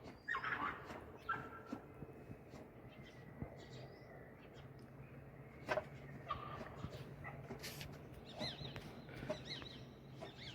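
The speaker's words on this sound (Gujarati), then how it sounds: "અમે તો કૂતરા મસ્તી કરે અટાણમાં" Dogs playing outdoors on a winter morning, with faint scattered yips, whimpers and short barks at a distance, mixed with low voices and occasional birdsong.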